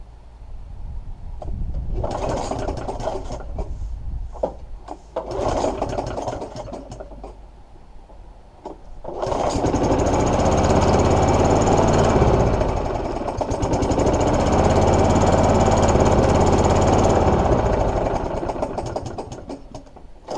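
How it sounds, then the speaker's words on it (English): A Honda GV100 lawnmower engine sputters through several short attempts, then catches and runs loudly and steadily for about eight seconds before fading as it cuts out once the choke comes off. "it started with fuel in it, but as soon as you take it off a choke, it was cutting out"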